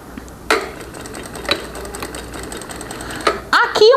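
Sewing machine stitching a small square of fabric, a steady mechanical hum with a few sharper knocks, close up, while a voice speaks near the end.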